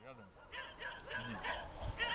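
Dogs bark and yip in short bursts, fairly close, mixed in with people talking over them.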